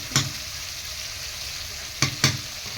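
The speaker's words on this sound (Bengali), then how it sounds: "যতক্ষণ না তেল ছেড়ে দেবে ততক্ষণ আমি কষিয়ে নেব মাছটা" Hilsa fish sautéing in oil on a clay stove, a steady close sizzle broken by three sharp clacks of a spatula against the pan.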